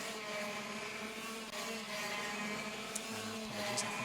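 High-revving racing kart engines whine and drone steadily from a monitor broadcast of an earlier ROK Cup race, a continuous buzzing tone with slight pitch shifts, moderately loud and without speech.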